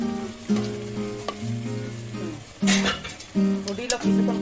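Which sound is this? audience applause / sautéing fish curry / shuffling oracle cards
sautéing fish curry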